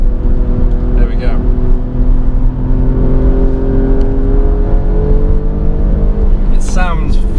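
From inside an Alfa Romeo Stelvio Quadrifoglio SUV, the engine pulls hard under acceleration with a loud, sustained, climbing drone. Brief voices come through inside the cabin.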